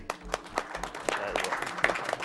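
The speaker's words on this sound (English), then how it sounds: "That hesitant clap." A hesitant, sparse smattering of audience clapping at a speedrun charity event, a few scattered claps fading in and out, faint and brief against low room noise.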